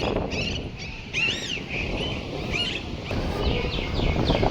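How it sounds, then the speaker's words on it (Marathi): Bright, repeated chirps and short warbling calls from several birds, close and clear over a low outdoor rumble. "आजही या ठिकाणी पक्ष्यांची किलबिल आपल्याला ऐकायला मिळते"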